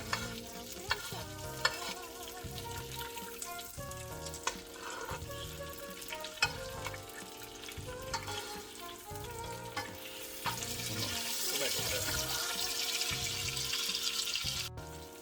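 A sauce of butter, capers, garlic and thyme fries in a pan for monkfish, giving a steady close sizzle with stirring and clinking. The frying grows louder and brighter toward the end, and no one speaks.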